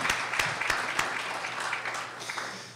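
An audience at a spinal cord injury research meeting gives a short burst of applause, sharp claps thinning out and fading over a few seconds.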